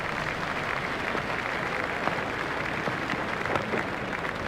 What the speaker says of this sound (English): The crowd are standing and applauding.